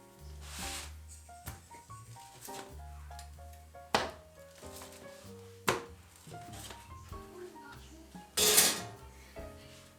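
A homemade sourdough pepperoni and jalapeno pizza being cut, with a few sharp crunchy cuts and knocks against a board or pan spread irregularly over quiet background clatter.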